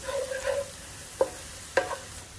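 Fresh herbs are sautéed in a pan for creamy garlic chicken, a faint sizzle broken by two sharp scrapes of a spoon as they are mixed.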